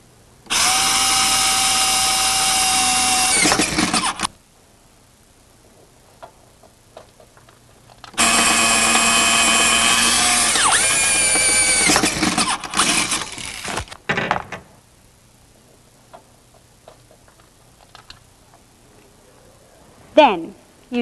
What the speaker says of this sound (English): Now, drill the holes as indicated on the template.